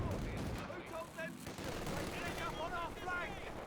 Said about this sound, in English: MG42 trying to stop that VP from being captured